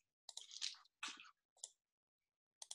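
Food being chewed close to a microphone, with several short crunchy, wet bursts of mastication separated by brief silences, fairly faint overall.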